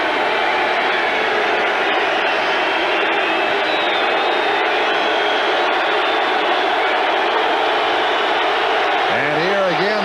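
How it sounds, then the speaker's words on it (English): Broad roar of a football crowd at Arrowhead Stadium during a 1990 Broncos vs Chiefs game, sustained and fairly loud, with a commentator talking over it. "And here again, the crowd reacts in Arrowhead Stadium."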